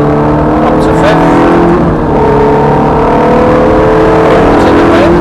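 Ferrari F430 engine pulling hard around Thruxton race circuit, a loud steady drone with rising tones as it accelerates, continuous and close throughout while a voice talks over it.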